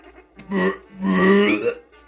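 A voice imitates a burp, two drawn-out, croaking belch-like bursts delivered close and loud with no other talk.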